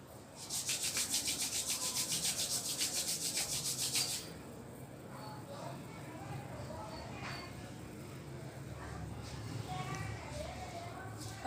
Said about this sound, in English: Now rub your hands. It should become very heat, and put on your face.